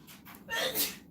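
One quick sneeze preceded by a short inhaling gasp, close and moderately loud.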